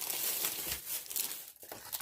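Crinkly plastic packs of volleyball stickers are handled up close, giving loud crackling and rustling that runs almost continuously with a brief pause near the end.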